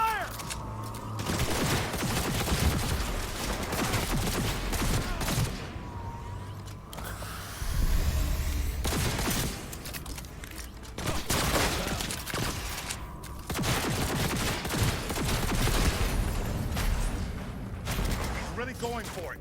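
A Cyberpunk 2077 shootout sends out repeated bursts of gunfire, volleys of sharp cracks separated by short pauses, with voices talking amid the shooting.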